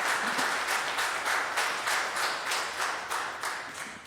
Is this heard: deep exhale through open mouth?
no